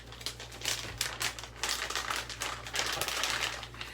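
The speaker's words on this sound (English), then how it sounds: "It got this little thing where you just rip it across." Plastic seal on a packaged salmon fillet being ripped open across its tear strip, a close, crackly run of crinkling and tearing bursts lasting several seconds, with no talking.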